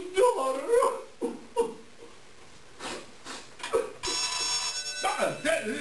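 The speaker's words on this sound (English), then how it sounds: "The phone." An old-fashioned telephone bell rings in a long sustained burst, sounding after bursts of excited talk and a man's exclamations, with voices continuing over the ringing.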